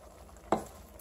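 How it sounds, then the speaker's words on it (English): A single quick scrape of a spoon stirs bacon cooking in a pot, one short soft stroke over a faint kitchen background, with no voices. "I'm going to give it a little stir."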